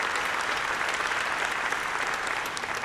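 Applause from a large university audience at a Founders Day state-of-the-university address, dense and steady for about three seconds, close and loud with no voices over it.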